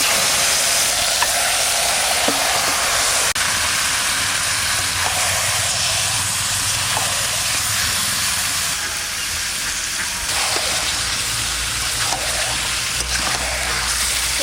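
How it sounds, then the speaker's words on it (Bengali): Chicken sautéing in a kadai of oil left from frying onions and potatoes, a loud, steady hissing sizzle that runs unbroken for about fourteen seconds, with occasional faint stirring clicks. "ওই পেঁয়াজ ভাজা আলু ভাজার তেলে আমি চিকেনটা কষাবো"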